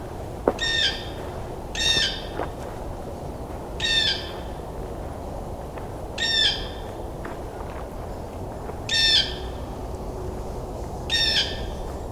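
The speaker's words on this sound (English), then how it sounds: "There's a blue jay. Pretty close." A blue jay calls six times at regular intervals, each a short harsh burst, fairly close over a steady outdoor background hiss.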